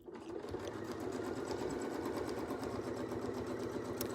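Sewing machine stitches steadily along a Westalee template with a fast, even mechanical whir and needle ticking, quiet and continuous.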